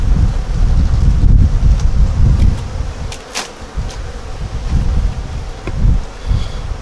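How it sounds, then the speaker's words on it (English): Honey bees buzz in a steady, close swarm on top of an open hive, with gusts of wind noise and occasional rustling; no voices. "there's quite a few bees here on top"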